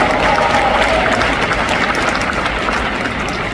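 A large audience claps at an indoor rally, steady dense applause that holds at an even loudness throughout, with a faint voice briefly audible early on.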